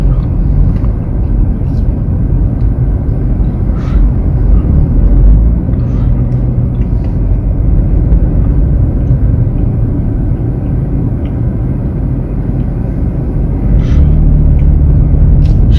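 A couple of cars pass by on a road during a school-run afternoon, a steady low rumble with broad swells rather than distinct pass-bys, continuous throughout and loud.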